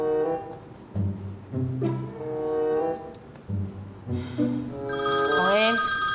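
A mobile phone rings loudly in an office meeting, its repeated electronic ringtone pulsing in bursts over a low tonal backdrop and rising to a bright sustained tone near the end.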